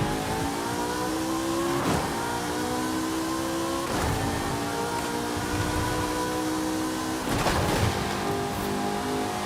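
A tiny small car's engine in Forza Horizon 5 drones loudly and steadily, with its pitch climbing and then dropping at gear changes about every two to three seconds.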